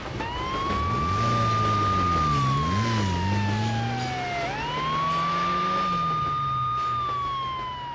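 An ambulance siren wails in a 3D animated children's cartoon, a loud, continuous rising and falling tone sustained for several seconds while the vehicle waits for a train to pass, with no talk over it.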